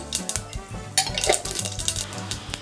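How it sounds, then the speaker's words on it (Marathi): Mustard seeds added to hot oil crackle and pop in quick, irregular bursts, with close metallic clinks and stirring against the pan running through the whole stretch. "दोन चमचे तेल गरम करून घ्यायचं यामध्ये थोडी मोहरी घालायची"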